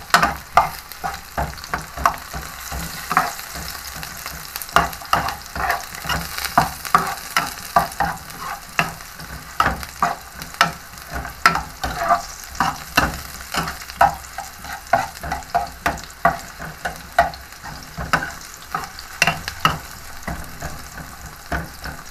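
Onions frying in a pan for chicken feet adobo, a continuous sizzle broken by frequent sharp scrapes and clacks as they are stirred, loud and close throughout.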